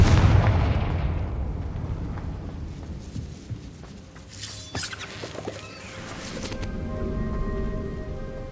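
A Confringo blasting spell goes off in Hogwarts Legacy: a sharp burst followed by a rumbling, crackling explosion that tails off into a lingering ambient hum and scattered debris-like clatter.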